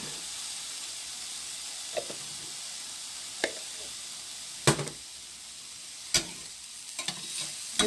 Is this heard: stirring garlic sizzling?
yes